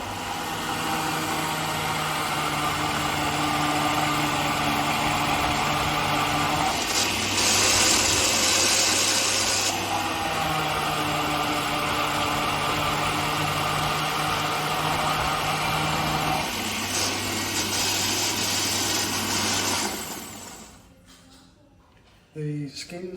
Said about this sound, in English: let's juice up the oranges